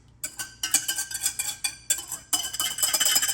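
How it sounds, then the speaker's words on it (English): Wet ingredients being stirred into peach cobbler muffin batter in a bowl, a run of close, quick clinking and scraping strokes with a short pause partway through, then steady stirring again. "stir in your wet ingredients"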